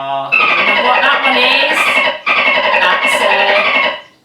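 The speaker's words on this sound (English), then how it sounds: "That's a dolphin." Dolphin calls sound in two loud, whistling, squealing bursts with a short gap between them, close and clear, with no talk over them.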